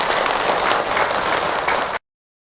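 Audience applause at an Islamic talk, a crowd clapping steadily for about two seconds before it cuts off abruptly.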